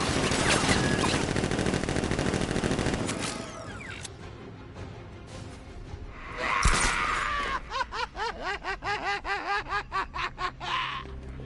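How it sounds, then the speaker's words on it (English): Guards open fire in Batman: Arkham Knight with dense, sustained gunfire, then a pulsing, laugh-like rhythmic sound repeats in quick bursts over continuous background noise. "Guard! Open fire! Shoot everything!"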